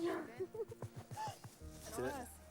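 A truffle-hunting dog makes short yips and soft whimpers in a quick, uneven series, close but faint, while a person speaks over it outdoors.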